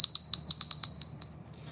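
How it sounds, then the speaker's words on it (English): A small vintage pink glass bell about four inches tall rings with rapid, bright clear tings, about a dozen strikes in quick succession that thin out and fade into a short ringing tail, close up. "It is a glass bell."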